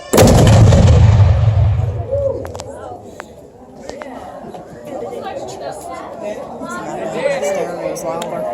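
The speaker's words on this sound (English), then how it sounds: "So that right there was our 12-pounder field howitzer. That represents smoothbore artillery." A 12-pounder smoothbore field howitzer fires one loud, booming shot that rolls and decays over a couple of seconds, followed by a crowd murmuring and talking in the background.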